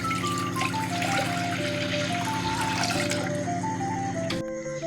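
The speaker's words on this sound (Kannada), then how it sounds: "ಸ್ಟವ್ ಕಚ್ಚಿ ಕುಕ್ಕರಲ್ಲಿ ನೀರಿಡ್ತಾ ಇದ್ದೀನಿ ಅವರೆಕಾಳು ಹಾಕೋಣ ಅಂತ" Water pouring steadily into a pressure cooker set on a stove, a continuous close trickle lasting throughout, with a tonal whine rising as the vessel fills and then a brief change near the end.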